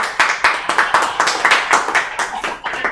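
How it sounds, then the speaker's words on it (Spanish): A church congregation applauds in steady rhythmic clapping, loud and close, with about a dozen sharp claps over a few seconds. "Un aplauso al Señor."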